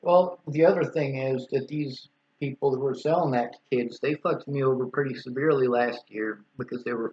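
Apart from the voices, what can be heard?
No distinct noise like a dog, phone or traffic.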